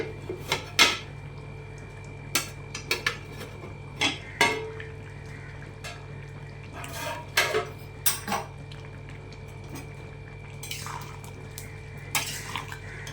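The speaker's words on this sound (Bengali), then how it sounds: "দেখি সেদ্ধ হয়েছে কিনা, এবার ঢাকনাটা তুলি।" A lid comes off a pot of chicken vegetable soup amid a series of sharp metallic clinks and clatters, spaced irregularly over a quiet low hum, close and fairly loud, with no voices.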